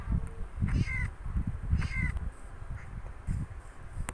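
Two short, clear meows from a Minecraft cat rise over low, bumpy game noise. No one talks.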